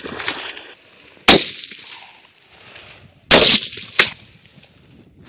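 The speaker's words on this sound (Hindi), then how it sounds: "53 पुलिस जवान और 21 अधिकारियों ने 2300 राउंड किए।" Police officers fire rounds during shooting practice at a firing range: a few loud, sharp reports spaced irregularly, each followed by a short ringing decay, with quiet gaps between.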